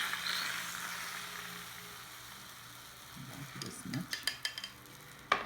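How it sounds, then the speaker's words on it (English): Beaten egg mixture for a Japanese tamagoyaki omelette sizzles and crackles in a hot pan, a close, steady frying hiss that thins out before a few utensil scrapes and taps near the end. "we are going to put about 1/3 of the egg mixture on the"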